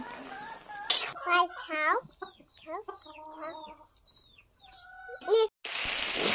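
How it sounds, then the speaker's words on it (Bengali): A hen clucks repeatedly in short, close bursts, with a couple of loud sizzling noises around it as meat is cooked, and no clear talking. "ওইদিকে আরেকটা মুরগি ডাকাডাকি করতেছে"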